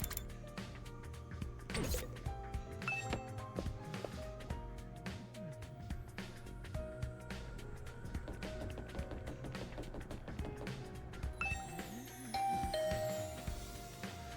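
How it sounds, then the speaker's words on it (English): A chiming doorbell rings in the video game The Hundred Line: Last Defense Academy amid a busy mix of game sound effects and clinking tones, moderately loud and close. "I rang the doorbell to Tsubasa's room"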